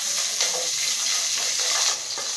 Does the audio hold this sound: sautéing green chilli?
yes